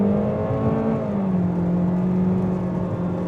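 A 2025 Toyota Corolla XSE hatchback engine pulls under acceleration in sport mode at a little over half throttle, a steady close whirring drone with the pitch sliding slightly as revs rise and hold, no talk.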